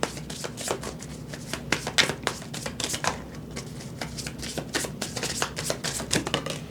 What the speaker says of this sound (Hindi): मुझे एक ही कार्ड चाहिए तो मैं शफल करूँगी।